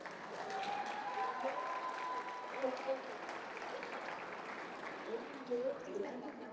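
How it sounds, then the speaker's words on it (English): Sustained audience applause fills an awards gala hall at an Indigenous business awards evening, a steady, fairly distant wash of clapping with faint voices and cheers mixed in throughout. "Please give them another round of applause."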